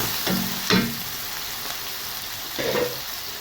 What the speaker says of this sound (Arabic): الدجاج ها هو يتشحر مزيان